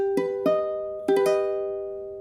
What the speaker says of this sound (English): If it were augmented, it would sound like this.